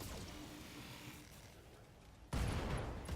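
Weapons fire in the BattleTech: Flashpoint video game, a sudden loud broadband burst of gunfire erupting after a quieter stretch and sustaining to the end.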